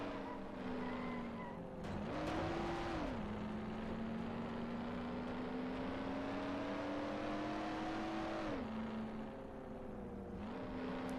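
A car in the Mafia video game drives toward a racetrack, its engine droning steadily with rising revs and two distinct gear-shift dips, a close, continuous motor sound with no talk over it.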